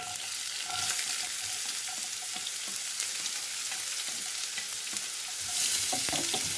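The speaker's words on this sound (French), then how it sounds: "Je laisse vraiment craqueler 2 secondes et j'ajoute mon oignon et mon piment." Turmeric seeds, onion and chili crackle and sizzle in hot oil in a pan, a dense steady frying hiss with small pops and a brief louder burst near the end.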